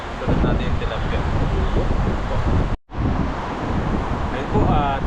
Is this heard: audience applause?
no